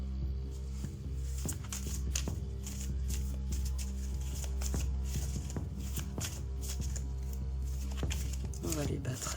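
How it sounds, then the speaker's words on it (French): A deck of 32 oracle cards riffled and shuffled by hand, giving a steady soft papery flutter with small slaps, heard close under a constant low background hum. "On va les battre un petit peu."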